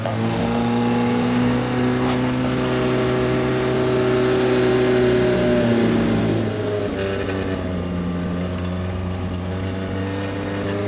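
A car engine idles steadily after a cold start on choke, close and loud, with a constant drone whose pitch shifts slightly midway as the revs settle, and no talk over it.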